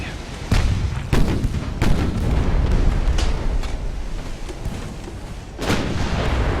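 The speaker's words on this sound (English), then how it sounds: "their light guns are still shooting" Heavy naval guns boom repeatedly in Ultimate Admiral: Dreadnoughts, a pre-dreadnought battle between British and German ships, with loud blasts at irregular intervals over a continuous rumbling background of distant gunfire.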